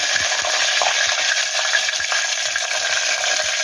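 Curry leaves dropped into hot oil with popping mustard seeds, urad dal and chana dal in a pan, giving a loud, steady, broadband sizzle with small crackles throughout and no talking.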